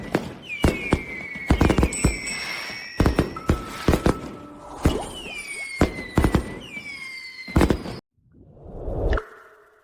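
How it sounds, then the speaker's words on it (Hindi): Fireworks go off in rapid bursts, sharp cracks and whistling streaks rising through the sky, loud and repeated, then a short silence followed by one more whooshing rise. "आतिशबाजी तो पल भर में बुझ जाती है"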